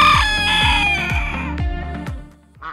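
A backyard rooster in a chicken yard crows loudly and close, one long harmonic call with a few clucking pulses underneath, then a short final squawk.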